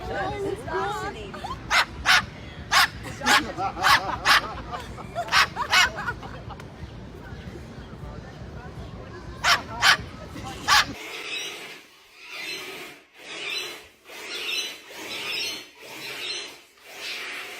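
A bird mimics a dog's bark, aiming repeated sharp yaps at a dog in clustered bursts, with a busy background of voices and other noise.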